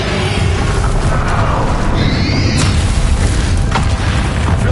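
A Bombarda explosion spell in Hogwarts Legacy, a loud booming blast with crackling debris over dense game noise, with a short sweeping whoosh and sharp pop in the middle.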